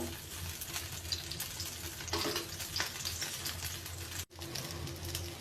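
A carrot, capsicum and onion dosa fries in ghee or oil on a hot pan, giving a steady, close hiss and crackle with a brief break near the end.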